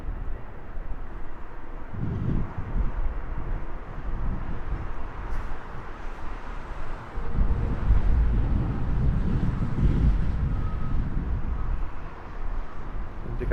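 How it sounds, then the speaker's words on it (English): Strong wind buffets the microphone at Heathrow Airport in gusty, rumbling bursts. The low roar swells and eases over a continuous airy background, with no other sound standing out. "As if you couldn't hear how windy it was."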